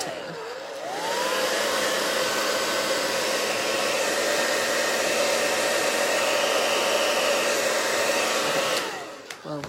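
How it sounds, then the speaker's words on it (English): A hair dryer blows hair dry in one continuous, loud, close whir that starts abruptly, holds a steady tone for about nine seconds, then clicks off. "Let me blow dry real quick, and then I'll tell you."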